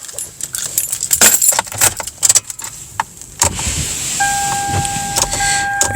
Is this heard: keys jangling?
yes